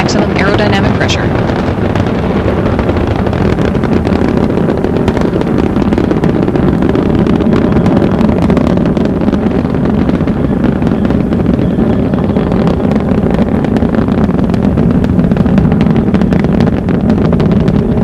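Space Shuttle Discovery's three liquid-fueled main engines roar at full throttle during the STS-105 launch, a loud, steady, broadband rumble that holds without pause, with a commentator speaking over it.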